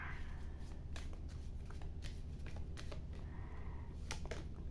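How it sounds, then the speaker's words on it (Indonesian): Tarot or oracle cards are shuffled and drawn from a deck, giving a steady run of soft, quick papery riffles and taps close by. The sound is quiet and continuous, with no talking. "Aku ambil dulu 3 kartu."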